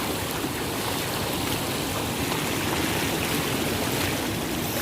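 Floodwater from heavy rain pours along a swollen, reddish river in Laos that has spilled over a road, a steady broadband rushing roar with no letup and no voices.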